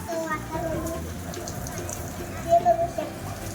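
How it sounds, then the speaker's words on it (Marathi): Steady heavy rain hisses down in a dense wash in Mumbai, with faint voices and a brief clatter partway through. "बघू शकता तुम्ही किती जबरदस्त पाऊस पडतोय"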